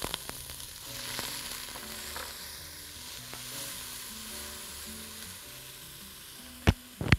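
Onion, leeks and celery are added to oil in a pan for beetroot soup, giving a quiet, steady frying hiss with a few light taps, then two sharp utensil knocks at the end.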